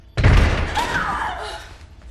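A door slams in the sci-fi horror film Jason X aboard a spaceship, a sudden loud low thud followed by a sustained rumbling, whooshing tail with faint tonal whine, no speech.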